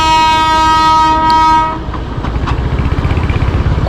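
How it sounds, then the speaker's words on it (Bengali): A toy train in the hills sounds a long, loud horn, then its wheels clack rhythmically on the rails as it rolls past close by. "টয় ট্রেনের ধোঁয়া উড়ে আস্তে আস্তে করে যাচ্ছে"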